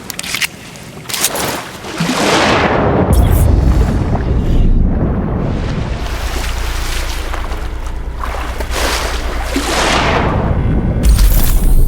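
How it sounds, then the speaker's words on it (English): Several sharp gunshots in the video game Sniper Ghost Warrior Contracts 2 crack out early on, then a loud sustained rumbling roar with more bursts toward the end. "Just heard gunshots"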